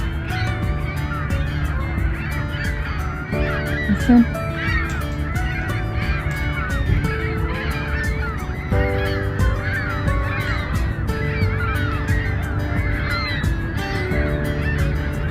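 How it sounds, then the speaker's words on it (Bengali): Flocks of birds, likely geese and other waterfowl, honk and call continuously by a frozen river in Canada in winter. The dense chorus is steady and moderately distant, with overlapping squawks and chatter and no clear talking. "কি কিচির মিচির করতেছে।"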